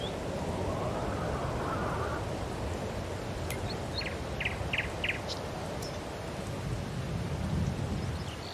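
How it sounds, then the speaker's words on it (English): Steady rain falls in Farming Simulator 22 on a farm, a continuous wash of hiss with faint distant rumbles and a few brief chirps, no talking. "sounds like it's raining"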